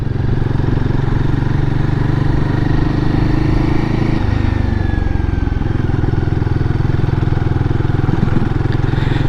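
A Royal Enfield motorcycle rides along on the way home from Chateaulin, its engine a steady, loud, continuous thump with a pitch shift midway as it rounds a roundabout, plus wind noise throughout.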